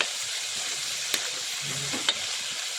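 Chicken adobo frying in its own oil, giving a steady close hiss of sizzling fat with a couple of sharp pops or utensil taps.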